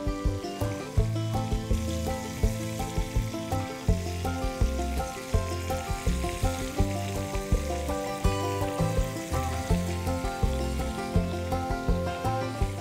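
Prawns fry in a pan, a steady bright sizzle running throughout beneath a strong, evenly pulsing tonal layer.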